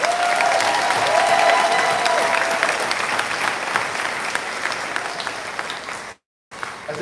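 At a class of 2023 graduation ceremony, a large audience claps steadily in a broad, even wash that tapers slightly, broken by a brief dropout near the end.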